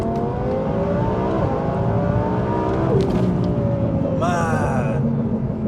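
A 1270hp Audi TT fitted with an AMS turbo kit and anti-lag roars loudly and continuously nearby, its engine note climbing through gears, with a short whistling turbo flutter near the end.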